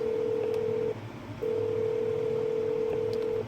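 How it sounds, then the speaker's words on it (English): A telephone rings in a call center recording: two long steady tones separated by a short gap, loud and clear above a low background hiss. "In the transcription we have just the phone ringing"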